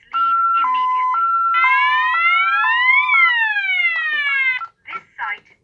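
A Tyco/ADT Safewatch Pro 3000EN alarm siren sounds loudly, first as stepped alternating tones, then as rising and falling electronic sweeps, and stops abruptly before a few short bursts.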